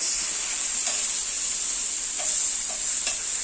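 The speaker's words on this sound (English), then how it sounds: "So I want them to sear, essentially to get color." Pork fillet sears in a hot pan with a steady, loud high sizzle throughout, broken by a few faint clicks of stirring or turning.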